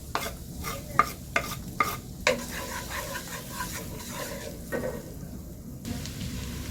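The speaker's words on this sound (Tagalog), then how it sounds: "Ito na ang butter, lagyan natin ng bawang." Garlic sizzling in butter in a pan for a no-bake spaghetti, stirred with a few sharp scraping strokes early on over a soft, steady frying hiss.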